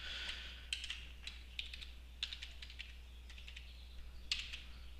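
Keys clacking on a computer keyboard as a password is typed, quiet and fairly close, in irregular bursts of taps and short pauses over a steady low hum, with no voices.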